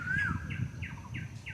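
Birds sing on a morning near the Brahmaputra river, a series of quick repeated chirps in a steady rhythm at moderate distance over a low background murmur.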